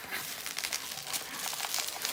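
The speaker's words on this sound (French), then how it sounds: "le papier bulle, ça fait beaucoup de bruit" Continuous crinkling of bubble wrap being handled up close, a dense crackly rustle with irregular sharper pops throughout.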